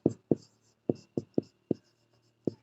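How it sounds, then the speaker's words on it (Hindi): Pen strokes on paper during a Hindi grammar lesson: seven short, close taps and scratches in an uneven rhythm, each sharp and brief, with quiet pauses between them. "तो पहला लिखते हैं"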